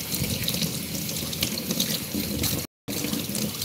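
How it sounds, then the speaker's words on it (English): Tap water running steadily into a sink while hands are washed, a continuous close splashing rush with a brief cut near the end. "So I'm going to wash my hand."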